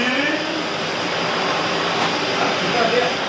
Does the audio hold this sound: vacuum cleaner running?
yes